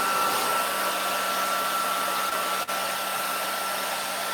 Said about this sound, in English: And it is a blow dryer. I don't have a heat gun.